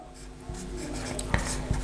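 Pen writing on paper during a Bangla-to-English translation lesson, a steady close scratching with two brief sharper taps near the end, quiet and with no voice over it.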